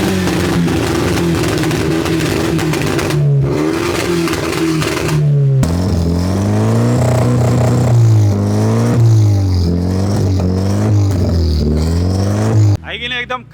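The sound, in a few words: sports car engine revving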